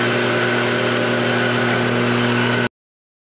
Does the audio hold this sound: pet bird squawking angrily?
no